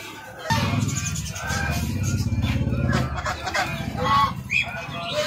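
Geese and other fowl honk and cluck in a dense, continuous chorus at a crowded bird market in Punjab, loud and close with overlapping calls and background bustle.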